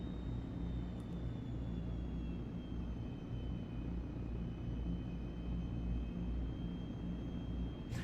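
C160 military transport aircraft engines in Microsoft Flight Simulator 2024 flying a valley toward Innsbruck, a steady loud droning roar with a thin high whine, constant throughout with throttle reduced.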